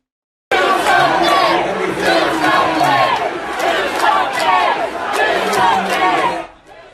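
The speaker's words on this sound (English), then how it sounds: "you'll hear, if you haven't already, what the crowd had to say back to Governor DeWine" Crowd at a Dayton vigil shouting back at Ohio Governor DeWine, a loud sustained roar of many voices yelling and chanting together, continuous for several seconds before fading.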